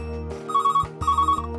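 A telephone rings for an incoming call on a live astrology show: two loud, bright electronic ringtone bursts, each warbling tone repeating in quick succession over a steady hum.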